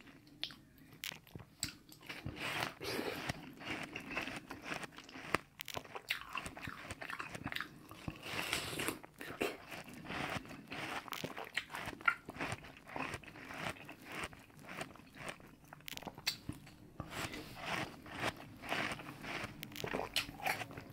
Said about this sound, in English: I always think these watermelons make some really cool sounds too.